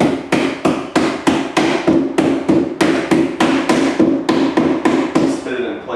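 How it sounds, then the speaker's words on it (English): A rubber mallet strikes a Club Car Precedent golf cart folding windshield into its mount, about fifteen sharp, loud, evenly paced blows close by, ending in a brief rattle. "this is where you might want to grab the rubber mallet hammer"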